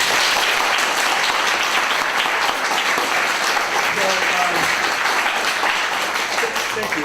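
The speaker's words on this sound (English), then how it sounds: "a round of applause for our presenters." A lecture-hall audience at a faculty colloquium gives its presenters a full, steady round of applause that lasts throughout, with a few voices mixed faintly into the clapping.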